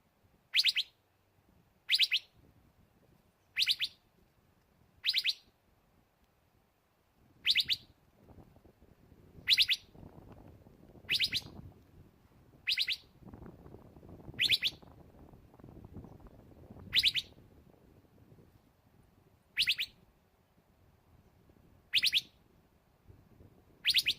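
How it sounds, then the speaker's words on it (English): A single bird calls loudly outdoors, giving sharp, bright chirps at a steady pace roughly every one to two seconds over faint background rumble, with no voices. "I'm not sure what kind of bird that is, but it's very vocal."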